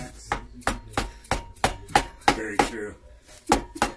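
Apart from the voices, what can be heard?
rubber mallet hammering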